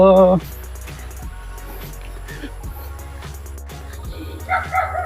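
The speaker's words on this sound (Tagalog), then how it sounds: "May mga aso na agad." Several dogs bark and yip in short bursts at varying distances, with people talking over the top.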